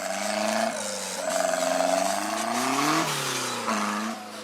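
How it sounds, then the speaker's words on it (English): A production modified off-road race vehicle at the Maxxis 4XTR event in Parys, 2014, drives past with a loud, sustained engine drone whose pitch rises and falls as it revs and eases off through gear changes. "Coming around in their production modified vehicle, slacking off just before the exit"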